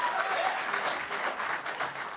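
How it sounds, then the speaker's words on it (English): Studio audience applauding on a television talk show, a steady wash of many hands clapping at moderate loudness with no gaps, lasting a couple of seconds. "They love to applaud today"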